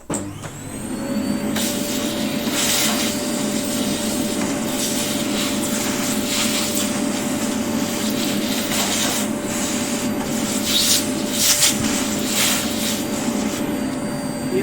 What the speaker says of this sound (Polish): Jeszcze na koniec odkurzacz.